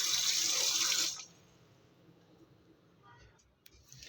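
Water runs from a tap while fish is being washed, a bright steady splashing for about a second that then stops abruptly, leaving quiet room sound and a faint click.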